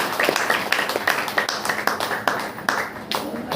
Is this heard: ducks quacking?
no